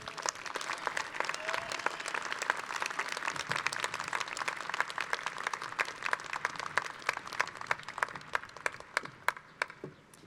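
Audience applause after commencement speeches at Trinity College's 2023 graduation, a dense sustained round of clapping from a large crowd that tapers off toward the end.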